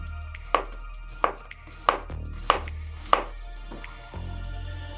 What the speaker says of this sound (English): slice your cabbage